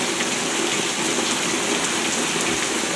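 Steady rain pours down in Dallas, Texas, a dense, even hiss of drops striking surfaces close by, continuous for the whole stretch with no voices.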